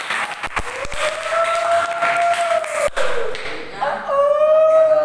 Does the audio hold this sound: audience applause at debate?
yes